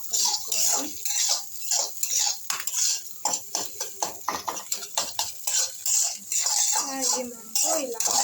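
Eggs whisked with salt and pepper powder in a bowl, a busy run of quick metal-on-bowl clinks and scrapes from a utensil beating steadily and close, under intermittent talk.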